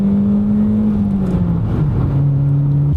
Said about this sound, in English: Oh, another second gear pull,